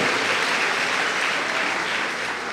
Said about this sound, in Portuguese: Só quem recebe essa palavra, louva a Deus com palmas